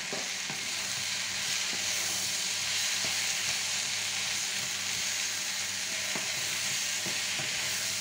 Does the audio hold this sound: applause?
no